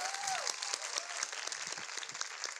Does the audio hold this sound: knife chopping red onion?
no